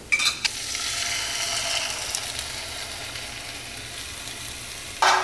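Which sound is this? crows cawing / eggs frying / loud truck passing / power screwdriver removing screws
eggs frying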